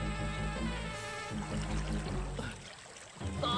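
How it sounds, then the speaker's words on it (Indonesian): Water rushes and pours continuously at close range, a dense steady flow like a swift river current, dipping briefly before surging louder again. "air sungai tempat kura-kura berenang menjadi sangat deras"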